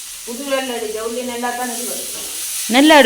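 Spices sizzle and crackle in hot oil while tempering for noodles, a steady frying hiss with a voice talking over it and a louder burst of sizzling at the end.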